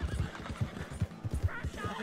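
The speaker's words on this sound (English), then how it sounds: "Come on, Horsey, come on" Horse in Red Dead Redemption 2 galloping with a rhythmic clip-clop of hooves and a whinny, loud and close, with a voice briefly over it.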